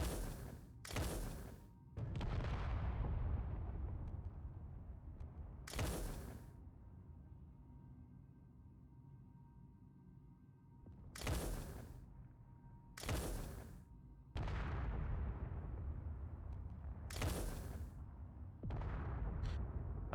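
Missile explosions in Space Engineers, heard as a series of about eight sharp booming blasts spaced irregularly, each followed by a rumbling low decay against a quiet background.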